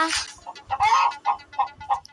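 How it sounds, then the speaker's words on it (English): A hen clucks in a series of short, bright calls, one longer squawk among several brief clucks, close and fairly loud. "hen, hen, मुर्गी, मुर्गी"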